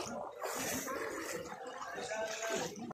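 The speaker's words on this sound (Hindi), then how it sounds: "देख सकते हो मंदिर में भी जा रहे पानी" Flood water in Champaran during continuing rain gurgles and splashes as it flows into a temple, a close, churning wash that stays steady throughout.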